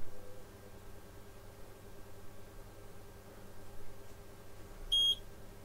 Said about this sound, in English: Second beep.